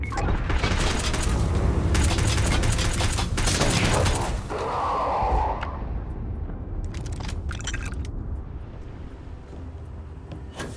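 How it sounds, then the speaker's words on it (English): Heavy weapon fire in the space game Starfield comes as loud booming bursts and rattling shots for several seconds, then eases into a lower rumble with a few scattered cracks near the end. "Opening fire."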